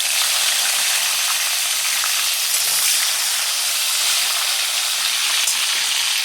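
Tomatoes added to a frying pan of rui fish cooked with fenugreek, producing a loud, steady, close sizzle and hiss of hot oil that continues unbroken throughout.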